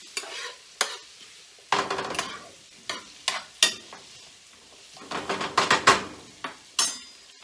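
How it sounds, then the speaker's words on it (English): Salmon filling sautéing in a pan, with a soft sizzle beneath repeated sharp scrapes and clacks of a utensil stirring against the pan, arriving in irregular bursts close by. "sauteing down nicely"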